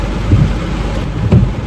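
Steady rain during a storm on a road trip hisses continuously, with two low thunder rumbles, near and fairly loud, and no one talking.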